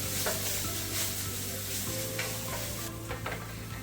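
Spice paste is sautéed in a pan for a shrimp and mango curry, a soft, close sizzle with a low hum beneath and a few light stirring scrapes, fairly quiet and steady.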